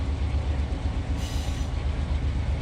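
A freight train rolls steadily in the Run 8 train simulator game, a loud continuous rumble of wheels and rail noise with a brief brighter hiss midway, no talking.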